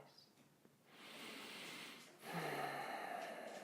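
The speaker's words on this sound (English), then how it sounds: "Keep breathing." Slow, deep breaths during a beginner yoga practice in a standing warrior-style pose: a long airy inhale followed by a stronger, louder exhale, close and alone.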